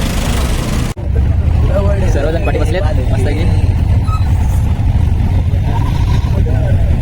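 An auto rickshaw carries a group of passengers, its engine droning loudly and continuously with road and wind noise throughout, while people talk over it.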